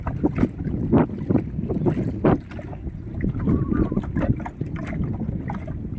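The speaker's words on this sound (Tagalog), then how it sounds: "Yung bangka na sinasakyan namin." A small motorized fishing boat crosses a river, with wind buffeting and splashing in a constant churning noise, a voice faint underneath.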